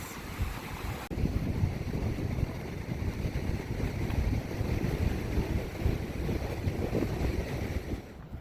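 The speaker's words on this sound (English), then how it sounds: "Look at these big waves." Big ocean waves on the Pacific coast along Highway 101 in Oregon, a steady broadband roar of surf mixed with gusting wind noise across the microphone, continuous and fairly close for the whole stretch.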